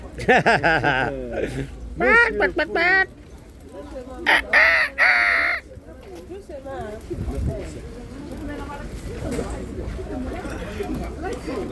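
A chicken clucks and crows in harmonic bursts, loud and close, with people talking over and around the calls.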